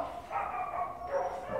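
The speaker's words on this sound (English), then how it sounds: "These are some of the dozen dogs that arrived this afternoon." Shelter dogs, including a mother and her two pups, giving a couple of short, muffled barks and whimpers close by, with faint background noise.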